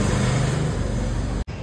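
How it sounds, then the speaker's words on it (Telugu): A motorbike engine runs with an unusually loud, steady mid-pitched drone, cutting out for a split second before resuming. "ఇంజన్ సౌండ్ ఎక్కువ అయిపోయింది"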